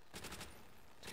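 Rapid bursts of gunfire ring out in the Nacht der Untoten zombies mode of a Call of Duty video game, several quick loud shots within about a second.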